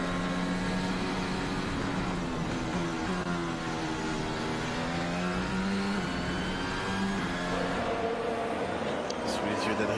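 Max Verstappen's Formula 1 car runs a long race-pace stint in practice at Yas Marina, its high-pitched engine rising and falling through shifts, heard at a distance beneath continuous commentary.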